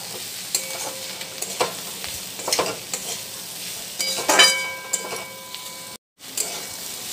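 Masala pasta with spices being stirred and fried in a pan on a gas stove, soft sizzling under intermittent scraping stirs and clinks, close and fairly quiet.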